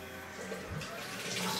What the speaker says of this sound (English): once you get your potato peeled, you just want to rinse it off.